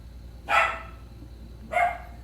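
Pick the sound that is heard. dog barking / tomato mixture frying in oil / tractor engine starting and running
dog barking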